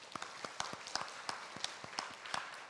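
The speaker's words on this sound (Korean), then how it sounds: "어머니 보내고 할머니 보내고 더 믿음으로 살라고 격려하는 박수 보내겠습니다" Sparse, scattered claps from a church congregation at a Sunday service, greeting bereaved family members, with individual sharp hand claps spread irregularly through a quiet room.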